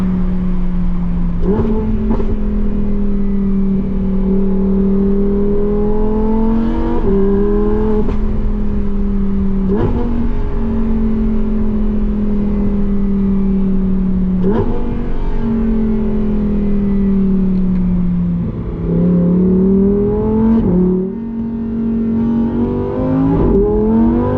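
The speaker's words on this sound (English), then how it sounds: "Lovely sound. V10 iconic." A 2025 Lamborghini Huracan Tecnica V10 engine revs repeatedly, its pitch climbing and dropping in several surges over a steady loud drone, heard close up with no talking.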